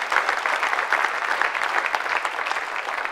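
A church congregation applauds together during a sermon, dense, sustained clapping from a crowd that holds steady throughout without speech.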